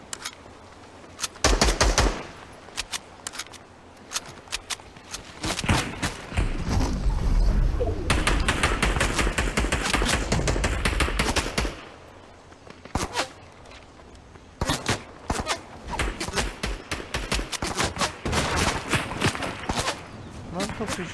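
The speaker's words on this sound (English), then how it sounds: "Where's he shooting from?" Gunfire in the video game Fortnite comes as repeated loud bursts of rapid shots and scattered single cracks, some close and some farther off, spread across the stretch with game noise and a voice talking in between.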